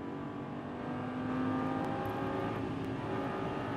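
Exotic sports car accelerating on a race track after an upshift, a steady engine drone that builds slightly in pitch and loudness, heard from inside the car.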